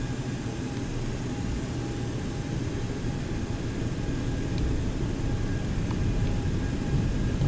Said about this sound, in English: Bring up the thrust, and go ahead and set takeoff power.